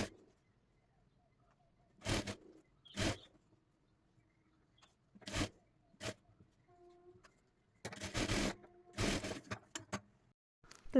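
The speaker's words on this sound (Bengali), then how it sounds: "তো সেলাইটি করে নিচ্ছি।" Bursts of a sewing machine stitching fabric for designer puff sleeves, several short runs of rapid needle chatter separated by quiet pauses, close and fairly loud with no talk.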